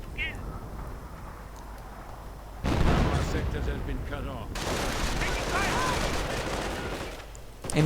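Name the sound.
MG42 machine gun and artillery fire in a WWII strategy video game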